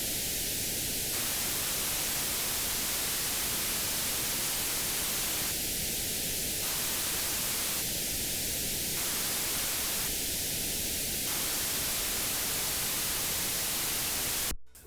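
Loud white noise with a mid-range EQ dip, pushed through distortion, hisses steadily for about fifteen seconds. The dip switches on and off in several stretches before the sound cuts out abruptly.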